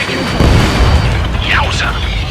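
A missile explosion in the aerial combat game Ace Combat 7 rumbles as a deep, booming blast with a short whooshing sweep, while a voice talks over it.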